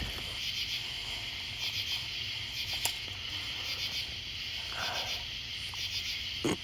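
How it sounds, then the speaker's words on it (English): A steady, high insect chirring carries on throughout over a constant outdoor night ambience. It sounds like a Japanese burrowing cricket calling from a short distance. "I just heard a Japanese burrowing cricket."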